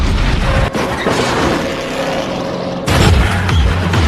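Loud, sustained crashing roar with a heavy booming impact, then a second burst of crunching noise as a car slams into a building wall.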